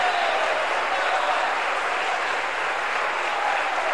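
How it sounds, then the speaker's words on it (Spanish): A church congregation claps steadily in sustained applause of praise, a dense even wash of many hands lasting several seconds with no break. "Dele un aplauso de alabanza al Señor."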